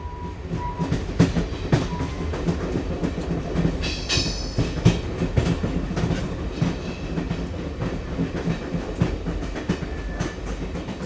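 A passenger train on the Kollam to Sengottai line runs along the rails, with a loud, continuous rumble and rhythmic clickety-clack of wheels over joints, plus brief metallic squeals, heard from aboard.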